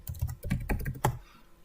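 Fingers type on a computer keyboard in a quick, uneven burst of close clicking keystrokes that trails off into a quieter tap or two.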